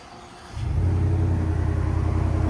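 A Whipple supercharged Ford F-150 with a 725hp 5.0L V8 and Flowmaster Flow FX exhaust fires up with a sudden loud rumble, then settles into a deep, steady, throbbing idle close by.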